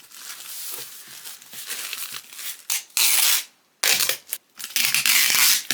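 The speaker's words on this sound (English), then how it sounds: "It took a little bit to kind of smush it down." An overstuffed shipping package of crochet orders is squashed down by hand, giving loud close crinkling, crushing and rustling of packaging in irregular bursts with short pauses.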